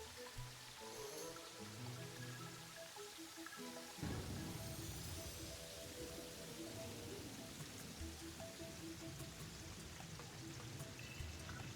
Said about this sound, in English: could it stop raining?